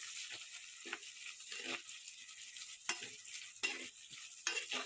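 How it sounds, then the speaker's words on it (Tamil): Large onions sautéing in a pan for a potato and moong dal salna, with a steady soft sizzle broken by repeated spatula stirs and scrapes at a moderate distance. "பெரிய வெங்காயத்தை போடுங்க நல்லா வணக்கிட்டே இருங்க"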